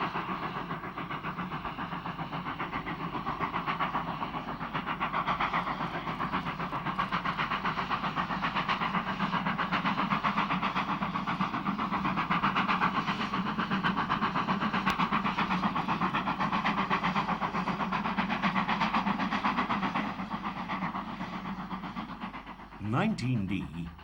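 Class 16DA steam locomotive number 876 hauling a train over the summit near Waghorn, a continuous, dense, steady roar of working engine and rolling train that stays loud throughout, with no voices.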